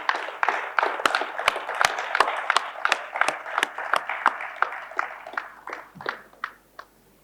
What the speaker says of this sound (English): I will request everybody to clap well for them